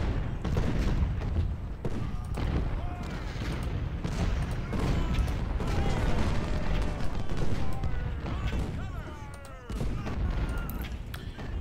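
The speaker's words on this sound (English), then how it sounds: "Now they're firing on his artillery." Massed sharpshooter rifle fire against artillery in the Civil War strategy game Ultimate General: Civil War, heard as a steady, dense crackle of overlapping distant shots with low booms rolling underneath throughout.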